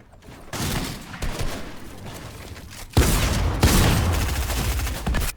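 Dense, continuous gunfire in the video game Fortnite, a loud sustained fusillade of rapid shots that grows even heavier halfway through, with no voices over it.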